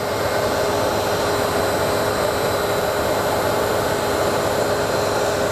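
A running industrial pump, heard up close at its non-drive-end bearing, gives off a loud, steady, even broadband whir with a faint constant tone and no talk.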